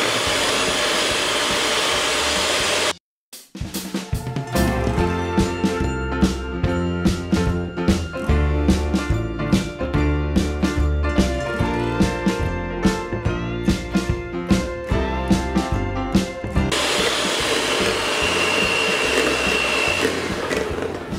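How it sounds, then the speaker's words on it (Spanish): Electric mixer at full speed whipping cream and powdered sugar for tiramisu: a loud, steady motor whir with rattling beaters that runs almost the whole time, broken by one brief pause near the start. "volvemos a encender la batidora en el máximo"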